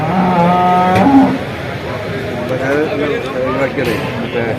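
A buffalo moos loudly and close at the Vaniyamkulam cattle market, a long low drawn-out call in the opening second, followed by people talking over the busy market din.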